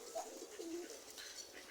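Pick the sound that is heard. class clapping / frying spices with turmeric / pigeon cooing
pigeon cooing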